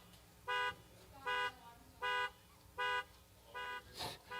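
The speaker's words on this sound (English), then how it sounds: "Old Big Red, his alarm's going off" Car alarm on a drag-racing car at a Pro Mod drag race, sounding in five evenly spaced loud honking blasts, each about a quarter second long, followed by a softer noisy burst.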